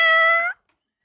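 A woman imitates a cat meow with her voice, giving one drawn-out meow of about half a second that stops abruptly, followed by silence.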